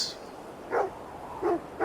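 A dog in Assassin's Creed Valhalla gives two short, moderately loud barks about three-quarters of a second apart, close by over a quiet background.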